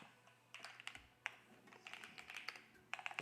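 Quick, light clatter of keystrokes on a split computer keyboard, typed in short irregular bursts with brief pauses, faint and close in a quiet room.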